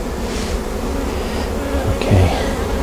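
Honey bees buzz continuously around an open beehive during a frame inspection, a dense steady hum from many insects close by with a few brief handling bumps.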